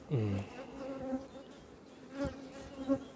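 Honeybee colonies at an apiary, with a close insect buzz that rises and fades as bees pass, over a quiet background.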